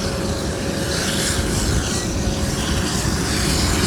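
Boeing C-17 Globemaster transport at the Singapore Airshow 2024, a loud continuous broadband jet roar with a faint steady tone, close and alone, with no talk.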